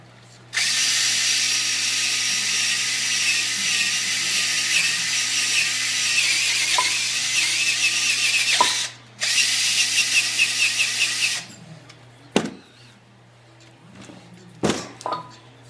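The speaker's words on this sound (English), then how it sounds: "And then drill again" Power drill boring a hole into soapstone, a loud steady whine running for several seconds, a short pause, then another burst before stopping; a few sharp knocks and scrapes follow in a quieter room.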